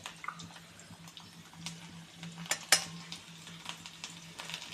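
Garlic frying in oil with cumin and mustard seeds, a soft crackling sizzle with stirring and a few sharp spoon-on-pan clicks, close and fairly quiet.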